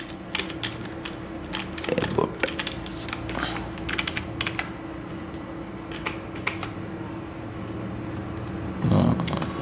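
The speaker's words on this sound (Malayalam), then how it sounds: "അപ്പോൾ ഞാൻ എബോട്ടസ് ടൈപ്പ് ചെയ്യണം." Fast, irregular clicking of keys on a computer keyboard, close up and moderately loud, in bursts with a brief low thump near the end.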